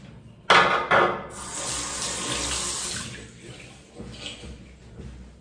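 Warm water runs from a tap into a shaving bowl, a loud steady splashing gush that starts abruptly and continues throughout.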